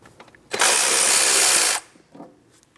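Power tool, likely an impact or ratchet gun, running in one steady loud burst of just over a second, removing the 13mm strut mounting bolts on a 2003-2007 Cadillac CTS, with faint workshop clatter before and after.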